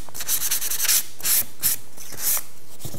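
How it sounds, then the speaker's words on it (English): Hand sanding with 320 grit sandpaper over a milk paint finish on furniture, with quick rhythmic back-and-forth scratchy strokes, close and steady, with no voices. "This is 320, and we're just going to be sanding off."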